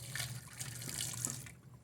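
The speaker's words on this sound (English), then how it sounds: "Pouring out some hot water." Hot water is poured out of a flask during a gas law experiment, a steady close splashing rush lasting about a second and a half before cutting off.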